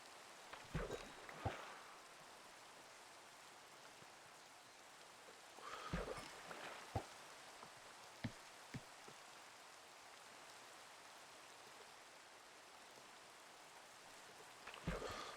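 Rain falling on a fishing bobber in the Minecraft video game, a faint steady patter with occasional sharper splashes and drips, no voices.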